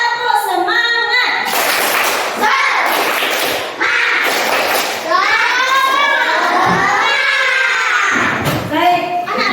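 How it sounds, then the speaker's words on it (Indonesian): A classroom of children does a rhythmic spirit clap in an Indonesian school, loud bursts of clapping mixed with shouting young voices in a patterned cadence, close and lively. "Tepuk semangat."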